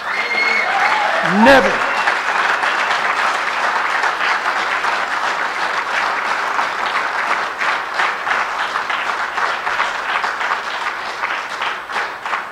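Church congregation at a Sunday afternoon service breaks into sustained, loud applause that fills the room evenly, following a shouted word from the preacher at the start.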